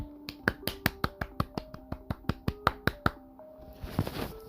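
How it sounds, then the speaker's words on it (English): Hands clap sharply in a quick run of about a dozen evenly spaced, crisp claps over a faint tonal music bed, ending with a short rustle. "Clapping"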